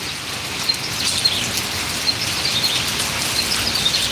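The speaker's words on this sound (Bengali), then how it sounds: "তো বৃষ্টি অনেকটাই কমছে" Rain falls on a Malaysian village among banana and sugarcane plants, an even, moderately loud hiss with scattered bird chirps rising above it and no talking.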